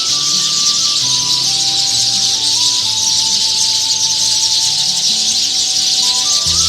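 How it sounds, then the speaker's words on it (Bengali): Birds call from trees on a winter evening at Halishahar, a dense, continuous, high chirping chorus with a few clearer whistled notes running steadily throughout and no talk. "দিনটা শুরু করলাম শুধু পাখির ডাক দিয়ে।"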